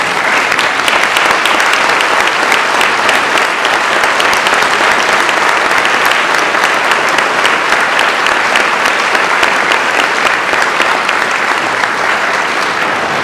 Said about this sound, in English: could you stand up so we can give you a round of applause?